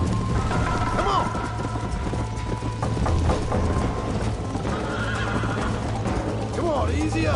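A horse in the Red Dead Redemption video game whinnies loudly twice, with steady clip-clop hooves and background game ambience throughout; a voice talks over it.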